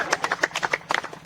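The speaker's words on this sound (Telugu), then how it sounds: "క్లాప్స్ కొట్టాలి అందరు" A small group of people clapping in a quick, uneven rhythm, close by, with a dozen or so sharp claps over a second and a bit.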